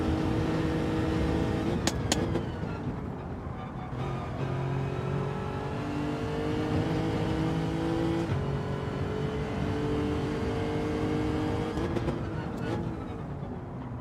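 A racing car's engine in Gran Turismo 7 revs and drones steadily under faint talk, with pitch rising and dropping through gear shifts at about 2, 4.5 and 12 seconds.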